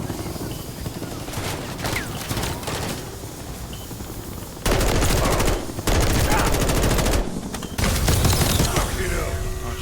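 Heavy automatic gunfire in the video game Modern Warfare III is aimed at a helicopter, with long sustained bursts of rapid shots breaking off and restarting, loud and close, while voices call out amid the battle.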